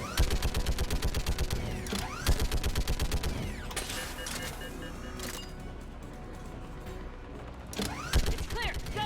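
A hard-recoiling automatic gun in Mass Effect 3 fires rapid, evenly spaced shots in long bursts, loud and close, with brief pauses and metallic game clatter between volleys.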